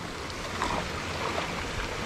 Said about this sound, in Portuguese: Aqui também tá sangrando, olha só. Descendo mais água aqui, pessoal.